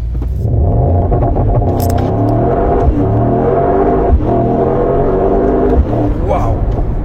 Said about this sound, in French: On va se refaire un petit launch.